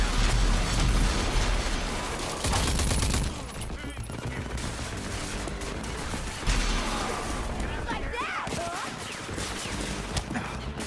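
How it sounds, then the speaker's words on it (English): Video game gunfight with rapid bursts of gunfire and booming explosions in dense, loud volleys, with the heaviest blasts early and a voice faintly in the mix. "I think they're honestly just killing themselves with these fucking explosions"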